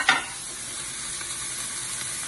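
Steak searing in a hot pan on the stove gives a steady, close sizzle with a brief louder burst at the start, continuing evenly with no voices.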